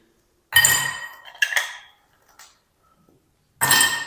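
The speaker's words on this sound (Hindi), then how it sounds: "तो अब हम ना गिलास ले लेंगे, इसमें हम शामिल करेंगे बर्फ़ के पीस" Ice cubes drop into drinking glasses for a homemade peach juice, giving two bright clattering clinks with short rattles between, close and loud, followed by near silence before another clink.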